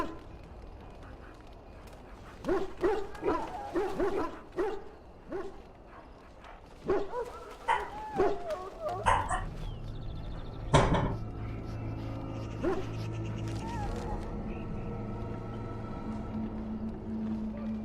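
A dog in the Dragon Age: Origins game barks in a run of sharp, repeated yelps and then whimpers more softly, over game ambience with some background clatter.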